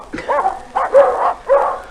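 Guard dogs in a vintage film bark at a suspected thief: three close, loud barks in quick succession with brief gaps between them.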